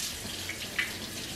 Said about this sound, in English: I just run a little bit of water through them, like this